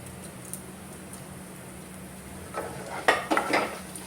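Whole coriander seeds roast in a pan over a low kitchen hiss, then a few close scraping and rattling stirs with a utensil break in near the end.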